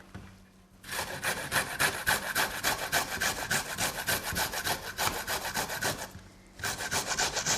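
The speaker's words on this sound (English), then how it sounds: "ginger, as long as you've cut the end off, you can pretty much grate it if you have a medium-sized grater" Fresh ginger is rubbed against a medium-sized grater in fast, even rasping strokes, loud and close, with one brief pause before the scraping starts again.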